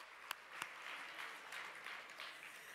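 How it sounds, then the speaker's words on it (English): Applause from an audience at an evening speaker event, faint and distant, with a couple of sharper individual claps near the start before the sound settles into a soft, steady patter. "another round of applause for Katrin, Milan."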